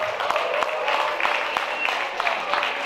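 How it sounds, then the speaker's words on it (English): A church gala audience claps after a Ministry Service Award announcement, producing a sustained wash of moderate applause with scattered sharper claps and faint crowd voices underneath. "Yeah, more applause."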